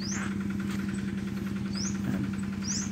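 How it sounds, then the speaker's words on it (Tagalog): Two outboard engines of 20 HP and 18 HP on a boat idle steadily, a continuous low throbbing hum with even rhythm, heard close and alone with faint high chirps above it. "Ang makina ho niyan ay isang 20 HP at saka isang 18 HP."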